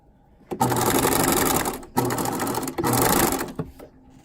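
A sewing machine stitches a patch pocket with contrasting thread in three loud, close bursts of rapid mechanical whirring, separated by short pauses.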